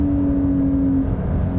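A 2020 Porsche 911 Carrera S (992) engine revving hard past 7,000 RPM, a loud, sustained high-pitched wail heard from close by, steady throughout without any talk.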